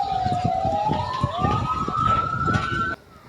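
A wailing fire engine siren at a house fire in Dabo Singkep, Indonesia, sweeps upward and holds, loud and fairly close, over road traffic noise, cutting off abruptly near the end.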